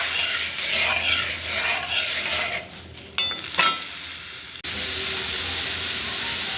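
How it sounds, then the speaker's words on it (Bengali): Water boiling in a cooking pot, a steady close hissing, bubbling rush with a brief clatter partway through, then a continuous even simmer. "জলটা ফুটছে"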